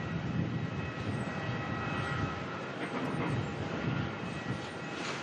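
A Qantas Boeing 737 arriving from Adelaide lands at Melbourne, a steady broadband roar of jet engines and rushing air held at a constant level throughout, somewhat distant with no voices.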